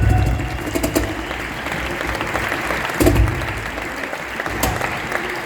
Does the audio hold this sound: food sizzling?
no